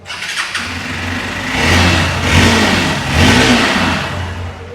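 A Kawasaki Ninja ZX-6R motorcycle engine fires up close by, then revs in two or three rising surges before settling back to a rumbling idle.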